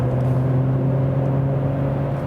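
A 2018 Mercedes E400 coupé engine hums steadily under acceleration in fifth gear with a nine-speed automatic, a loud, smooth, continuous low drone heard from inside the car.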